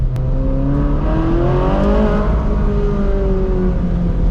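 A Ferrari 458 Spider's engine revved at half throttle, rising in pitch to a peak and then easing back down, loud and close over a continuous mechanical roar, with no voices.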